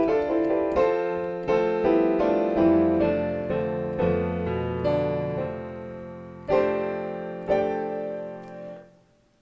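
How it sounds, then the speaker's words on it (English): A Lydian mode scale starting on F, played as a clear sequence of sustained, ringing keyboard-like notes stepping steadily upward and back, each note overlapping the last, alone and moderately loud, fading at the end. "That's the Lydian Mode."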